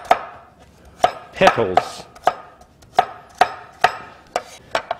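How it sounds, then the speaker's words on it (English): A cleaver chops sideways through beef on a cutting board for broccoli beef with oyster sauce, with sharp, evenly spaced knocks at close range and a brief word spoken between them. "And then we take the cleaver and we go sideways."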